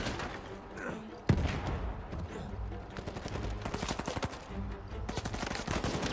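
Gunfire in Uncharted 4, a sharp loud shot followed by a busy, fairly quiet mix of scattered rapid shots and combat noise, with several quick bursts toward the end.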